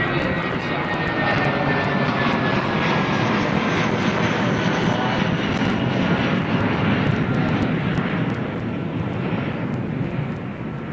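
A police fixed-wing aircraft flying overhead, its steady engine drone loud and continuous throughout with no talking.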